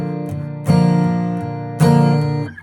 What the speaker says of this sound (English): there's a very large volume increase on the accented beats